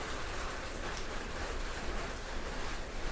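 Steady rainfall hisses evenly and continuously, a dense wash of drops falling outdoors near potted plants, with no voices or other sounds over it.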